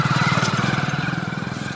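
A motorcycle engine putters with a steady, pulsing idle-like rhythm as the bike goes past nearby, the tone moderately loud and fading slightly toward the end.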